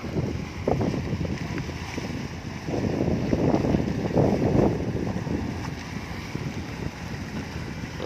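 A pair trawler fishing boat heads out on the Pattani River. A steady engine rumble and water wash carry on through the clip, with wind buffeting the microphone and no voices.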